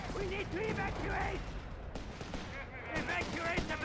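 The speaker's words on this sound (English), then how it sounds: "Artillery called in on it." Artillery and gunfire from a Company of Heroes 3 match, rapid crackling shots and thuds under a continuous commentator's voice.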